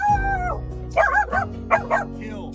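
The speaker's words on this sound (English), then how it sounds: "Now Scrappy doesn't usually bark at anybody" A dog named Scrappy gives a few short, close barks and yips in quick succession, with a whining tone in between, loud over a low background hum.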